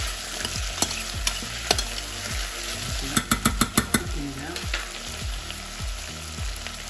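Peppers frying in a pan for a Cypriot turlu vegetable stew, with steady close sizzling broken by repeated scraping stirs and a quick run of sharp utensil clacks against the pan.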